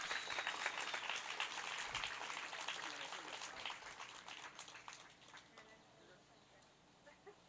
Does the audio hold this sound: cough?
no